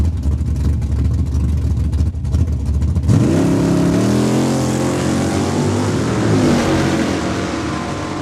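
Drag racing cars, a Camaro and a Mustang, launch and accelerate hard down the strip at Saskatchewan International Raceway, a loud broadband roar giving way to rising, sweeping engine tones as the revs climb, close and sustained.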